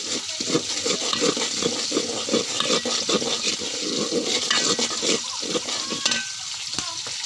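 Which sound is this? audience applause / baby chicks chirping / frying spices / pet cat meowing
frying spices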